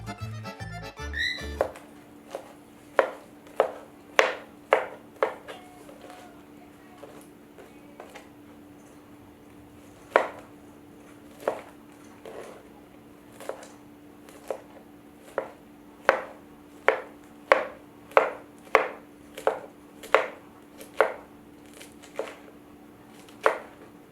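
A knife chops vegetable toppings for a veggie pizza on a cutting board. Crisp taps land close by, loosely rhythmic at first and quickening into a steady run near the end, with a faint background hum and no talking.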